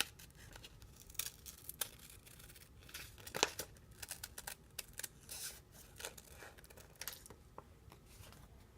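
Scissors cut through a paper sewing pattern piece for a blouse being shortened, producing faint, irregular snips and crisp rustles, close and quiet with no talking.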